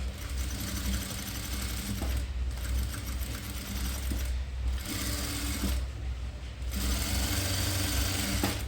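A tailor's sewing machine runs almost continuously while stitching a frilled long dress, a dense close mechanical whir with brief slowdowns and small clicks between passes.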